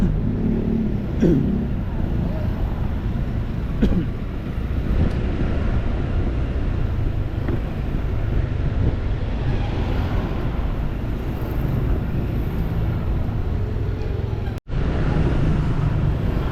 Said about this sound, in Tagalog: Dami pa rin sasakyan ah.